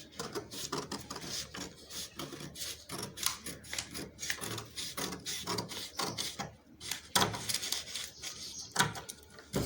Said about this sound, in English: Then I will cut on the front armhole line.